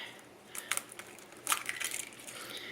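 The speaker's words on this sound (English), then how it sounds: "me hitting the eggs together to crack them" Two eggs knocked together and cracked into peanut butter cookie batter, giving a pair of short, sharp cracking bursts close by with no talk.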